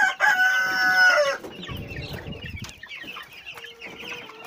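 Marans roosters crow loudly and close for about a second, then a flurry of clucking, scratching and scattered fowl calls follows.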